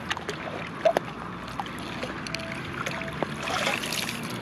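A metal detecting scoop is rinsed in water on Blackpool beach, with sloshing and trickling and a few knocks amid steady outdoor wash, fairly close.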